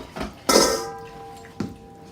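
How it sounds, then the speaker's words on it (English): A spoon knocking and scraping against a mixing bowl while remaining flour and salt are stirred into focaccia dough, a couple of distinct clinks standing out in an otherwise quiet moment with no talking. "now it says to stir in the remaining flour and salt. So that's what I'm going to do"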